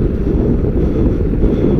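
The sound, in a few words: crosswind blowing while cycling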